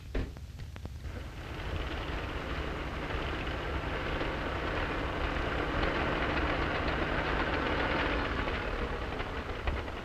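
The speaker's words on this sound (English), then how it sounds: "The engine just quit." A combine harvester engine runs with a broad, steady rumbling drone that holds at a fairly even level for several seconds, with no voices.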